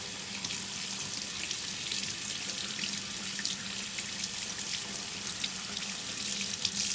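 Tap water pours steadily into a sink while a felted wool mushroom is rinsed under it, a loud, even hiss and splash with no pauses and no talk.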